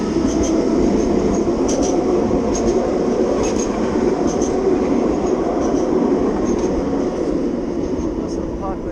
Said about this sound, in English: Tram on the right.